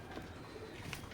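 A teddy pigeon of Oman bloodline coos softly, a few low, rounded murmurs rising faintly from a quiet background with no talk.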